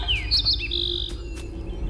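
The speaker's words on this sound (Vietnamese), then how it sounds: "Ủa, thì ra đây là con chim non trên cành cây hót liêu lo nãy giờ hả?" A baby bird sings from a tree branch, giving a few quick high chirps and then a sustained bright note, heard over a steady rumble of background noise.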